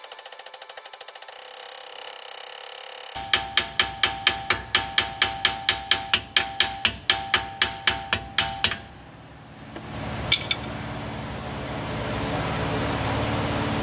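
A hammer strikes the hard corners of a stuck Ford 9-inch differential case, about twenty sharp, loud metallic blows in a steady rhythm, followed by a short rattle and a low background hum.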